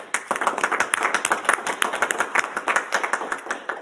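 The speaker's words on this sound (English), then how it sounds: "And we'll have one last round of applause for all our recipients." Applause for award recipients at a national awards ceremony: a small group claps in a brisk, uneven patter that runs steadily at moderate loudness for several seconds.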